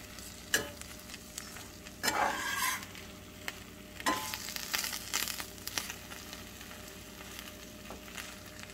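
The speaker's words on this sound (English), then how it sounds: "Just gonna give it a nice little stir here." Chilaquiles with melting cheese are stirred in a pan, with several close scraping stir strokes over a low continuous sizzle.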